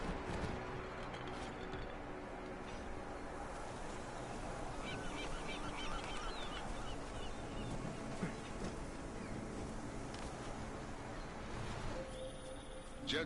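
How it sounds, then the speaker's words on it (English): Seagulls call in the video game Deus Ex: Mankind Divided, their squawks scattered through a dense, steady wash of ambient game noise that stays loud and constant throughout. "Seagulls. Seagulls are everywhere."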